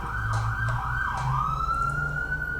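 An emergency vehicle siren wails steadily in the background, a continuous sweeping tone that holds at a moderate, even level over low road rumble, with no talking.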